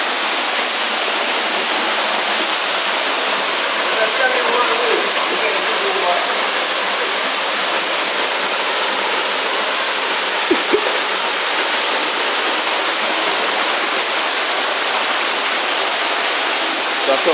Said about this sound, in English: There's our next waterfall again.